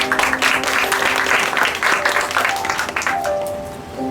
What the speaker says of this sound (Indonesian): Boleh tepuk tangannya teman-teman.